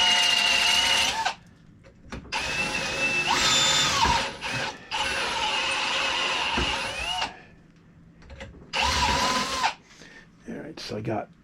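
A step drill bit widens holes up to 7/16 inch in a metal alternator adaptor head bracket for a 1967 Mustang 351W, giving loud whirring, grinding bursts with high squeals that stop and start in separate passes.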